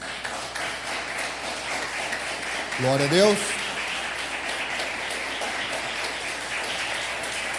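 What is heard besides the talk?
applause for the Lord Jesus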